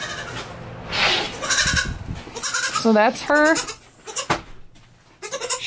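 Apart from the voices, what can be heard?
young goat bleating before evening bottle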